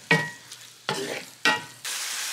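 Ground beef frying in a pan with pepper and salt, stirred in three quick scraping bursts over a steady close sizzle that grows louder at the end; no talk.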